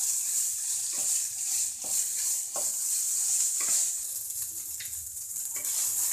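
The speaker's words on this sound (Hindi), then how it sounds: "इसे तेज आंच पे चलाते रहिए।" Fried rice being tossed and stirred in a pan over high heat, a continuous bright sizzle broken by repeated scraping strokes of the spatula at a quick, uneven rhythm.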